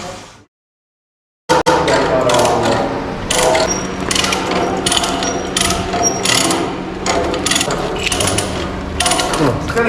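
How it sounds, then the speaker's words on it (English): Ratchet tightened while working on a vault safe door, a loud, close, continuous rapid clicking of the pawl with metallic clatter, following a brief silence at the start. "Tell me when you're tightening it up, Lee."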